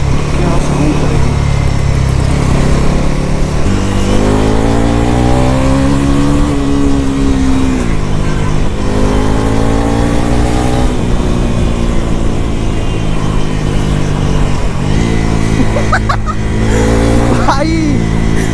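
A loud Bajaj Pulsar NS400Z (2026) motorcycle engine revs and idles up close, pitch rising and falling through repeated throttle blips, with a voice speaking over it.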